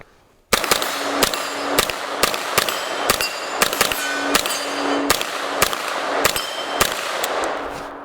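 A 9mm PSA GX-9 AR15 fires rapidly at steel targets outdoors, with loud, sharp shots in a quick uneven string of about a dozen, each followed by ringing metallic clangs from the steel.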